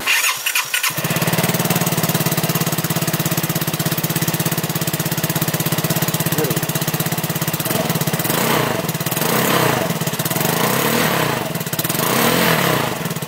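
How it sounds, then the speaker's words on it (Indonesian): A modified Vespa scooter fitted with a Remus exhaust starts up and runs, its engine settling into a loud, steady, close-up buzzing drone with a few throttle swells near the end, no talking. "Jadi ini dia suara knalpotnya."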